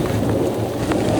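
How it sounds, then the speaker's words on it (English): Thunder rumbles low and continuous beneath heavy rain during a storm, a dense steady wash of rainfall with a deep rolling undertone, close and enveloping, no voices. "You can still hear the thunder."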